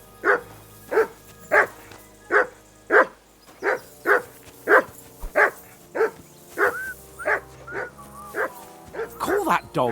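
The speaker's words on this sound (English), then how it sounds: "call that dog to heel." A dog in the medieval game Kingdom Come Deliverance II barks loudly and close in a steady run of about fifteen evenly spaced barks, with a few quicker yips near the end, set against low game ambience.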